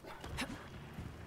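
A dog companion in the game Remnant 2 gives a short yip and a soft whimper, faint and brief against quiet game ambience.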